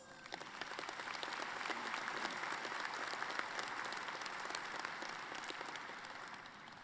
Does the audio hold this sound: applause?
yes